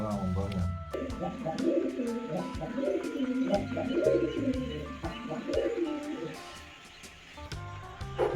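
Pigeons cooing close by in repeated soft throaty phrases, with a person talking over them throughout.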